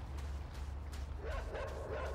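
Dogs barking and yipping in the video game INSIDE, with several sharp barks and whimpers over a steady, low, rumbling game ambience.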